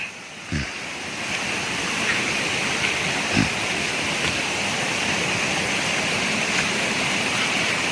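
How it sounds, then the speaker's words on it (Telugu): Raikal waterfall flows between two hills at low water after the rains ease, making a continuous, full rushing roar with a couple of faint thuds near the start. "రెండు కొండల మధ్యలో నుండి పారుతుంది ఇది."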